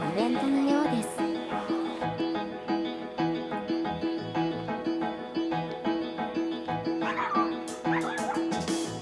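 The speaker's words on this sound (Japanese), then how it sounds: "公園はワンコがたくさんいますね。" Dogs bark repeatedly at a dog festival in a park in Gifu, with short yips and woofs recurring over a steady tonal background and voices talking.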